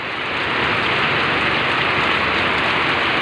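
Heavy downpour in Meycauayan, Bulacan, a dense, steady roar of rain beating on surfaces that swells slightly in the first half-second and then holds loud and constant, with no talk.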